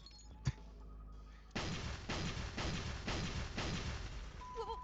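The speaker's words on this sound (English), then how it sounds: "The explosions appear to have stopped. The explosions made the room change." Explosions in the video game AI: The Somnium Files, heard as a run of about five evenly spaced, heavy booming crashes over a loud, steady background, following an earlier single thump.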